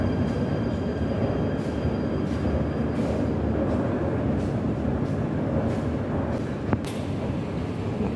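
Train at Eleonas station in Athens, a steady low rumble of railcars rolling past with faint wheel squeal and a sharp clank near the end, heard at moderate distance without voices.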